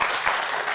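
A studio audience at a television game show applauds in a brief, steady burst of many hands clapping.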